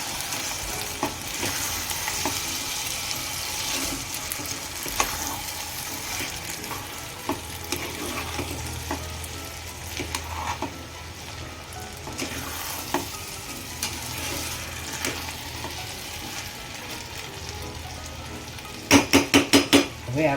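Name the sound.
stirring sorghum upma frying in pan on gas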